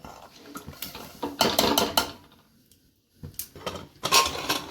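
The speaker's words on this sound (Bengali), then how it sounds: "আমি এই দেখো চালটা দিয়ে দিলাম।" Grains of uncooked rice pour into a pressure cooker in bursts, a close rattling patter with a short pause in between, and no talk.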